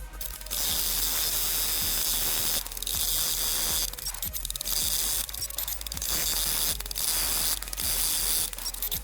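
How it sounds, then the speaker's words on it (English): Embroidery machine stitching out a name, giving a steady, close mechanical ratcheting whir broken by several short pauses and restarts, with no talk. "I will fast forward through the stitching out of the name because it does take about a minute, 2 minutes"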